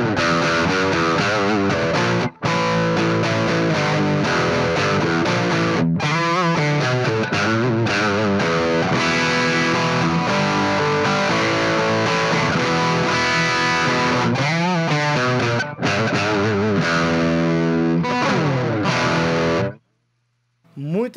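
Electric guitar played through a Vox AV30 combo amp on its High Gain 1 channel with no pedals, a warm, thick distorted tone strummed and picked continuously and loudly for about twenty seconds before cutting to silence.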